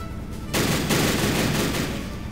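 Gunfire in the World War I video game Battle Academy, a dense sustained fusillade of rifle and machine-gun fire starting abruptly and continuing loud and steady.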